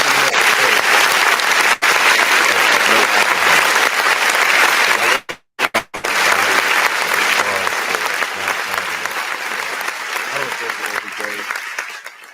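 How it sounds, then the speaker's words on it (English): An audience gives a round of applause, loud continuous clapping with brief dropouts midway, gradually tapering off toward the end. "give yourself a round of applause"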